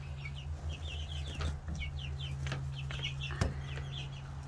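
Backyard chickens in a coop cluck softly and repeatedly in short bursts over a steady low hum, quiet and a little distant, with one brief louder knock.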